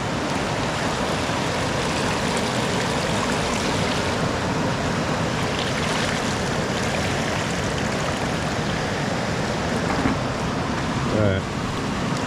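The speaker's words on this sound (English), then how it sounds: "Let's get that water drained out." Water drains and splashes steadily out of a gold classifier while prospecting in an old riverbed, a continuous broadband rush close by throughout.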